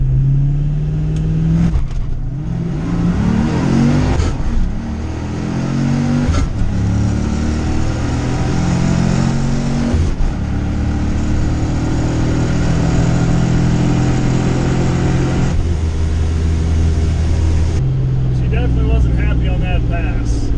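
A Foxbody Mustang with a 408 Cleveland-based engine swap accelerates on a track, loud revving rising through gear changes with brief dips between pulls, heard from inside the car.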